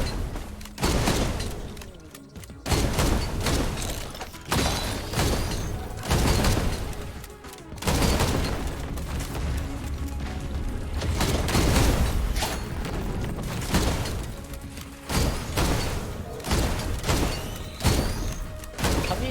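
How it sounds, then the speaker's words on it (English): Explosions and gunfire in the video game Risk of Rain 2 form a dense, continuous barrage of booms, thuds and rapid shots. The sound stays loud and chaotic throughout with no talk over it. "Can these explosions crit?"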